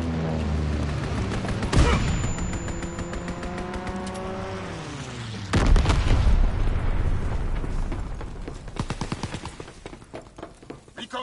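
Fighter jet strafing run in a PS4 shooter game: a rising jet whoosh with descending pitch sweeps, then a heavy boom at about five and a half seconds followed by rapid rattling bursts of impacts and explosions, loud throughout.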